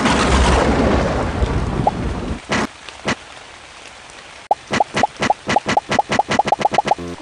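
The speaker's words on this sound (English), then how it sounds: "I'm gonna summon a rain cloud." Rain from a summoned rain cloud in a Scratch animation: a dense wash of rain with a thunder-like rumble for about two seconds, then a series of sharp, evenly spaced plops and droplet hits with no talking.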